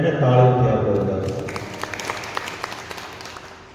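Applause from a seated crowd at a religious discourse in Haridwar, dense clapping that starts under a speaker's voice, then thins out and fades, leaving scattered individual claps.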